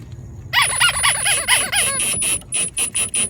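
Chrome socket on a low-speed driver turning a sway bar link nut on a Mini Cooper, a close whirring with rising and falling motor pitch and a ratcheting chatter, in short bursts.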